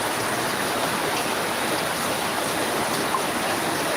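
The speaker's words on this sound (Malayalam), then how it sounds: "പുറത്ത് നല്ല മഴയാണ്" Heavy rain pouring outside, a dense, steady hiss of water that stays loud and unbroken from start to finish with no voices.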